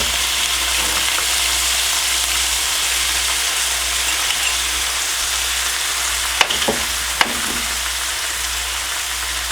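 Home-canned sausage fries with peppers and onions in a pan on the stove, a loud steady sizzle throughout with a couple of sharp scraping clicks near the end.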